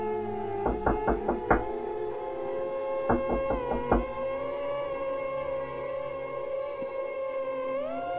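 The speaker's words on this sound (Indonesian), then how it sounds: "Tiba-tiba terdengar suara ketukan keras di pintu rumah mereka." Loud knocking on a house door, two quick bursts of four or five hard raps each, close and distinct over a steady sustained hum, with no voices.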